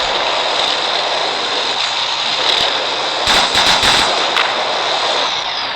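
Rapid bursts of gunfire in the offline mobile game Payback 2, loud automatic fire crackling in short clusters over a constant noisy hiss.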